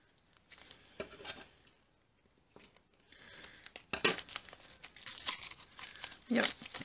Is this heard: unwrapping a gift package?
yes